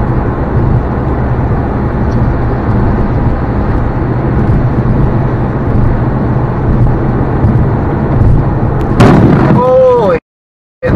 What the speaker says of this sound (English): I just saw a car get struck by lightning.